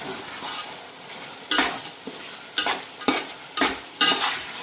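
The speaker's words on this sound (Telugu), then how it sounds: "ఈ మిశ్రమాన్ని మొత్తం కలుపుకుందాం మంచి నీట్గా" Chicken curry mixture of country chicken pieces being stirred in a pan, with a low sizzle and several distinct scraping strokes at irregular intervals, close and fairly loud, no talking.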